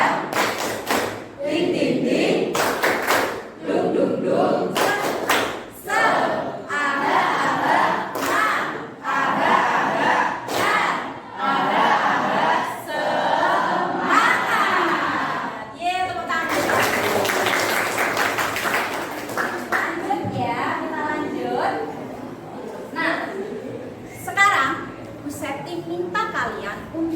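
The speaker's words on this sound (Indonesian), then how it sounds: "semangat kita dengan melakukan tepuk semangat" Classroom of students performing a rhythmic spirit clap, with repeated sharp clap and thump bursts alongside loud group chanting and shouting, close and energetic throughout.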